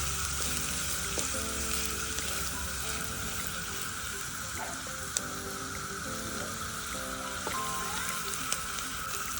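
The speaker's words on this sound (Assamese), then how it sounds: "এনেদৰে আমি ভালদৰে লৰাই দিছো যাতে এই ভাজিখিনি সিজি যায়" Carrot stir-fry sizzling in a pan, a constant bright frying hiss with a spoon or spatula scraping and stirring in short bursts, close up and moderately loud, no voices.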